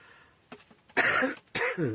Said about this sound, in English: Got a little bit of a cough